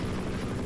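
Helicopter in the video game Minecraft, a steady droning rotor whir with low thudding pulses, loud and continuous throughout with no voices.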